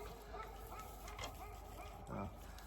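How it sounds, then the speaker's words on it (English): Household dogs barking at neighbours arriving or leaving, a few fairly faint, scattered barks and yips heard from some distance within steady background noise. "The dogs always bark at the neighbors when they come and go."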